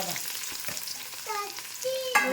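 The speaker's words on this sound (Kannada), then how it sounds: "ಈಗ ನೋಡಿ ಸಾಸಿವೆ ಚಟಪಟ ಅಂತ" Mustard seeds crackle and spit in hot oil with chillies and potatoes, a close, lively sizzle with stirring, scraping and a few squeaky utensil sounds over a short stretch.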